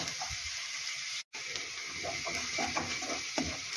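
Onion frying in oil in a pan while cabbage is being stewed, a steady, fairly quiet hiss of sizzling with small crackles and an occasional stir, briefly cut out for a moment.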